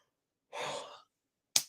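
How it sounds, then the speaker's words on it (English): A single close, breathy exhale like a yawn from a man, about half a second long, followed by a brief sharp sound, with silence around it. "I'm just going to keep on yawning now, aren't I?"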